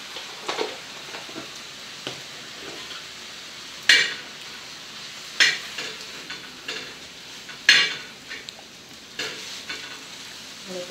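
Fenugreek leaf vegetable being mixed with crushed peanut powder in a pan at home, a soft scraping stir with a few sharper clinks of the spoon against the pan, no voices.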